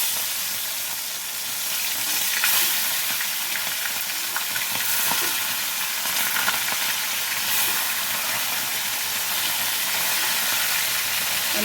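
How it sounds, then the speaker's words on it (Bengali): Pomfret fish frying in hot oil, a loud continuous crackle and sizzle with spitting pops and occasional stirring scrapes, steady throughout with no voices. "তেলটা গরম হয়ে গেছে, আমি এবার মাছ একটা করে মাছ আমি ভেজে নেব।"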